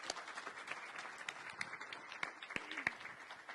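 A conference audience applauds a panel, steady clapping of moderate loudness heard from within the room, with a few sharper individual claps standing out.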